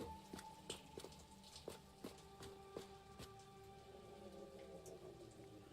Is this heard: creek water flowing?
no